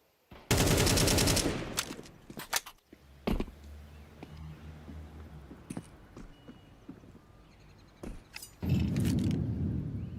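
Rapid automatic gunfire in Counter-Strike 2, loud close bursts at the start and end with scattered single shots and clatter between, no talk.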